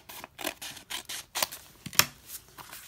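Scissors snipping paper while making junk journal ephemera at a craft table; a run of short, close crisp cuts and rustles in an irregular rhythm, with a sharper click near the end.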